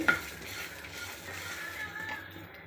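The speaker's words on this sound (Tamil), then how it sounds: "சின்ன வெங்காயம் பூண்டு அதையும் போட்டு வறுத்து எடுத்துக்கலாம்" Small shallots and garlic fry quietly in a pan, with a soft sizzle under close stirring and scraping, opened by a sharp metallic clink.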